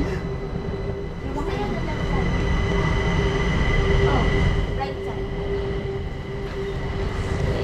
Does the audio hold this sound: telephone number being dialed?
no